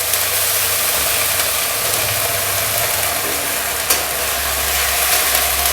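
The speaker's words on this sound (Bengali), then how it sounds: "এবার ভালো করে মশলাটাকে কষিয়ে নিচ্ছি।" Garlic paste and ginger-cumin paste fry in a pan with a continuous sizzle and soft scraping under a low steady drone, and one sharp clack partway through. No one speaks.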